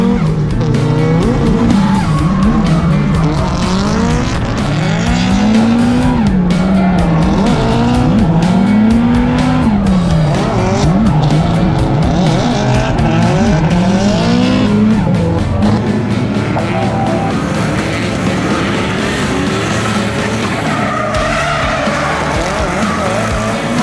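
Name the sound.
car engine and tire squeal during a car chase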